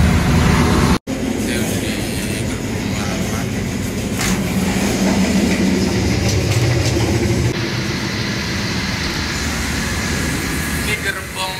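Steady loud rumble of riding in the last carriage of a Progo new generation passenger train, a continuous rolling roar with shifting rattles that holds throughout after one brief cutout near the start.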